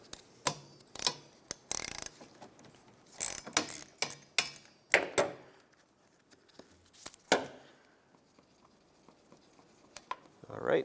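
Ratchet clicking in short bursts while loosening the 14 mm wiper arm nuts on a 2001-2007 Toyota Highlander, close and crisp with pauses between turns and brief talk near the end.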